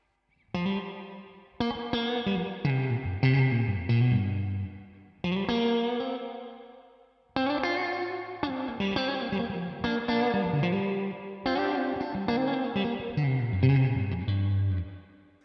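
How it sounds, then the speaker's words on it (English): Electric guitar chords through a Victory V4 Duchess amp with reverb maxed ring out with a heavy, washy reverb tail, played in repeated strummed phrases that hang and blur together, loud and alone. "there's a lot of reverb on tap, way more than I was expecting"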